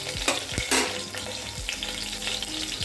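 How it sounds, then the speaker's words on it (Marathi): Cumin and mustard seeds crackle in hot oil as whole garlic cloves are added for a curd kadhi, a dense sizzle punctuated by sharp pops and a few spoon knocks against the pan, close and unaccompanied by talk. "आता आपलं जिरं मोहरी तडकायला लागलेले आहे आपण आता त्याच्यात ह्या लसूण पाकळ्या टाकणार आहोत"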